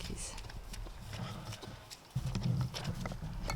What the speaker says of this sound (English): Good donkeys.